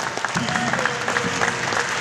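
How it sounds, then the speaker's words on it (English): A student orientation audience claps in a dense, continuous round of applause that stays even and fairly loud throughout. "A round of applause for that."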